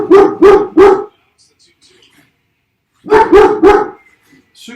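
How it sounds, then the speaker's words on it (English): An indoor dog barks at something outside in two quick bursts of three loud, close barks each, separated by a couple of seconds of near silence. "The dog is letting us know that it's outside."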